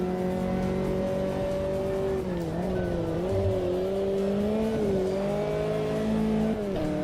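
A Formula Inter race car engine in the racing game Automobilista 2 drones at steady high revs, its pitch dipping and rising through corners, with a brief faint tire squeal, loud and continuous.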